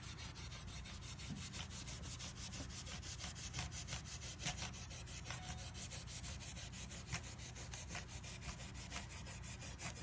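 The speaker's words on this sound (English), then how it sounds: "you have steel wool in your hand. 4O steel wool." Super fine 0000 steel wool rubbed back and forth over a guitar fingerboard and frets, a rapid, regular scratchy swishing repeated many times, close and fairly soft, with no talk.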